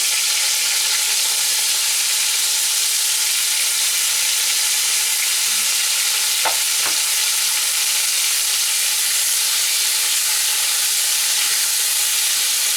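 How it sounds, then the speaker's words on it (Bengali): Cut bitter gourd pieces fry in hot oil with a loud, steady hiss and crackle. A couple of brief clinks of a utensil can be heard midway, and no one speaks. "এবার ওই তেলের মধ্যে দিয়ে দেব আমি যে উচ্ছেটা কেটে রেখেছিলাম, উচ্ছেটা দিয়ে দেব।"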